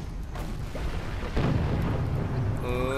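Cannon fire striking a sailing ship in the space-pirate battle video game Treasure Planet: Battle at Procyon, a heavy booming impact with rumbling low end, followed by a brief tonal game effect at the end.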